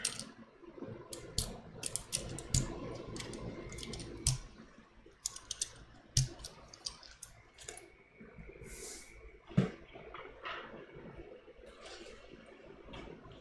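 Typing on a MiniVan mechanical keyboard with MX Red switches, heard as close, irregular bursts of soft clacking keystrokes with occasional louder thocks and brief pauses.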